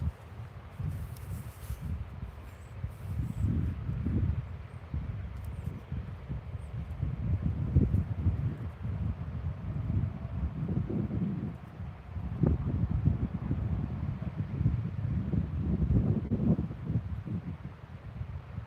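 Wind blows steadily outdoors beside a lake during bass fishing, a low rumbling gusty roar that swells and eases in waves, close on the microphone with no voices.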